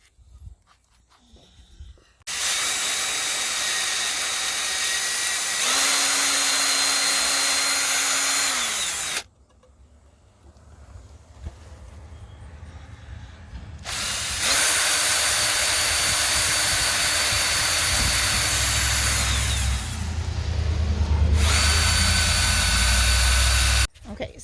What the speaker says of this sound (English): put 3 dots to pre-drill the holes.